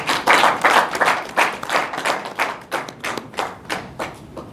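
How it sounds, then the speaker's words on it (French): An audience at a public event in Mali on water development applauds with fairly close, steady, rhythmic clapping, swelling and easing in regular pulses, with no speech over it. "je voudrais vous inviter à vous acclamer fort"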